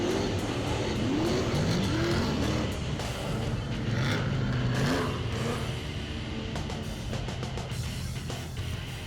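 Super saloon race cars roll onto the starting grid at a 2019 South Island meeting, engines burbling and revving at a moderate distance with some tyre noise, and no voices are heard.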